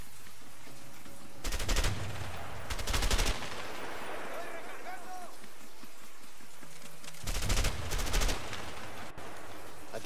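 Automatic gunfire in the video game A Way Out: two short bursts early on, a quieter stretch with talking, then two more bursts near the end, each loud and rattling against steady background ambience.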